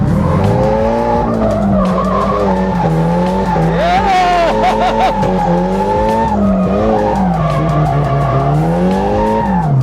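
Nissan 180SX drifting, with loud sustained tire squeal and a revving engine wavering in pitch throughout, close and continuous.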